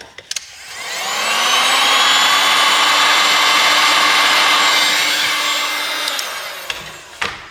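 A heat gun warms a SKY Devices Elite D65 phone during a teardown, giving a loud, steady blowing whir that runs for several seconds between brief clicks as it switches on and off.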